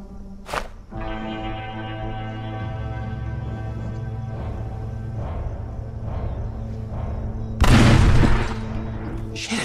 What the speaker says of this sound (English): Get the barrels, bro. Shoot them. Explode them.